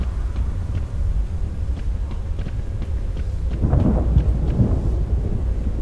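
Rolling thunder rumbles through a rainy stretch of the video game Solarix, a low, sustained growl that swells louder near the end over steady rain.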